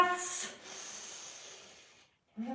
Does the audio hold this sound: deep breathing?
yes